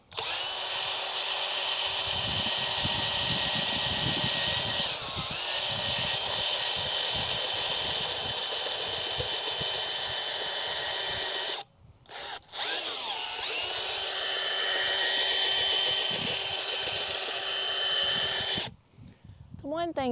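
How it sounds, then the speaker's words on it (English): A power auger digs a planting hole in garden soil with a loud, steady motor whine. It runs continuously and cuts out briefly twice near the end. "One thing that I do like about an auger is that it firmly loosens up your soil."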